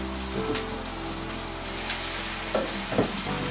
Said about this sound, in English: And then I'm going to add the fried baingan